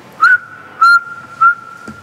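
One person whistles in a concert hall above seats that absorb little sound: three short, clear whistled notes, each followed by a faint, lingering tail of reverberation in the quiet room.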